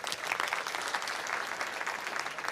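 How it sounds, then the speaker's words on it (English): Talk audience breaks into steady applause, a dense even patter of many hands clapping at moderate distance, filling the whole moment without voices. "So round of applause for yourself."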